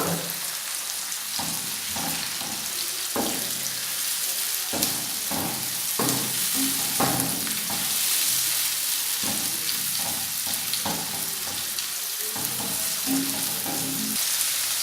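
Chopped small tomatoes hitting a hot pan for mash daal, a dense continuous sizzle and hiss close by, broken by a series of scraping stirs and soft thumps, with no one talking.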